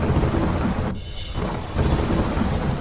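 Torrential monsoon rain pours down in Vadodara with a roll of thunder, a loud, dense wash of rainfall that thins briefly and then surges back.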